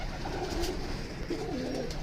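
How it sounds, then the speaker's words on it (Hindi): Breeder pigeons coo on a rooftop loft, two soft rolling coo phrases close by over a quiet background. "ये सारे A to Z ब्रीडर कबूतर है"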